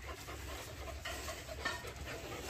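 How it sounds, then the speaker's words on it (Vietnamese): A Belgian Malinois puppy, about four months old, pants rapidly in hot weather, quick soft breaths close by against a noisy outdoor background. "Chó trời nắng hơi thở nhiều."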